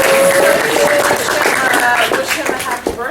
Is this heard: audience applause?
yes